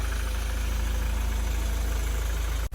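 A steady, low tractor engine idle drones on without pause, even and unchanging, cutting off abruptly near the end.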